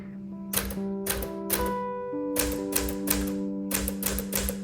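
A 1960 Smith Corona Sterling manual typewriter in Alpine Blue being typed on, with crisp separate keystrokes in small bursts and quick clusters, close and clear, with no talking.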